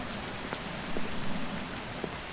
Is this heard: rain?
yes